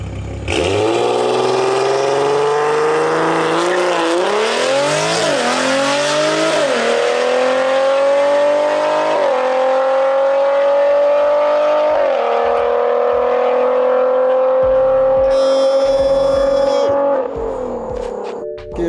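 A loud turbocharged BMW F30 340i launches, revving and climbing through several gear changes, rising in pitch each time as it accelerates hard, with a whistling turbo whine near the end.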